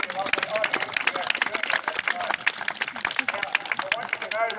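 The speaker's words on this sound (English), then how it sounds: "your clapping really doesn't mean that much to me" An outdoor audience at the Scenic Rim Clydesdale Show 2025 claps steadily, with dense, continuous applause and a faint murmur of crowd voices underneath.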